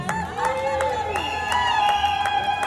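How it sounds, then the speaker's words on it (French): Guests at a civil wedding clap and cheer together, a lively crowd din of applause and shouts running over background music, with voices mixed in throughout. "Applaudissez encore pour son maquillage."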